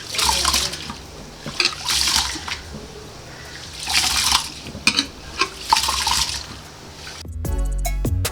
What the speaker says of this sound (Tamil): ஃபஸ்ட்டு ஒரு 2 தடவை கழுவுற தண்ணியை செடிக்கு ஊற்றிட்டு மீதி தண்ணியை நம்ம கீழே ஊற்றிடலாம்.